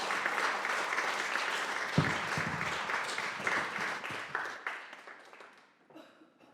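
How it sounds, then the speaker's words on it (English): Festival audience claps after a poetry reading at a sustainability event, a full burst of applause that holds steady and then thins and fades out toward the end. "round of applause for Sonic Duo."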